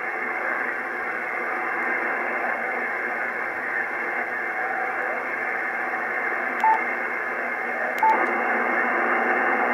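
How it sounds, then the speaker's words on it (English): A Yaesu FTDX 1200 transceiver receiving with digital noise reduction switched on, giving a steady, muffled band of filtered hiss and faint processed signal, with two brief tone blips near the end. "Really cuts back on the noise, the background noise."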